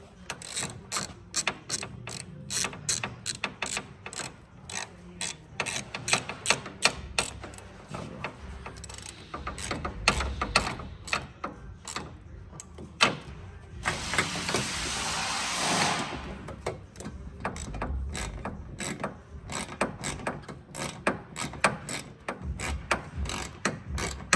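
A ratchet wrench tightens carburetor bolts on a front-engine mini jeep during a carburetor swap, giving long runs of rapid, close metallic clicking that pause briefly and start again, with a short whooshing burst partway through.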